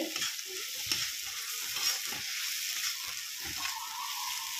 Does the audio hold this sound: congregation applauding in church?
no